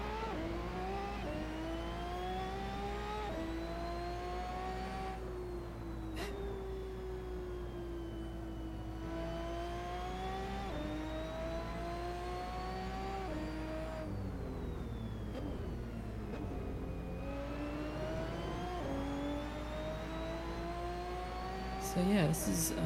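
A race car engine in a sim racing game drones steadily throughout, its pitch climbing and dropping through gear changes and revs, with faint speech at times.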